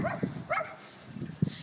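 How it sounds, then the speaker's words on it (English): A dog barks a few times outdoors in a quiet, deserted town, with short sharp barks near the start and another bark toward the end, fairly close. "There's a dog coming after us."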